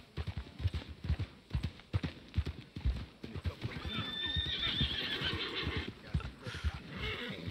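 A horse in Red Dead Redemption 2 gives a loud, drawn-out whinny while hooves clip-clop in a quick, steady rhythm close by, with a faint voice in the background.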